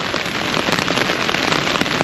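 Heavy rain hammers down steadily, a dense hiss with sharp droplet spatters throughout, close and loud, no voices.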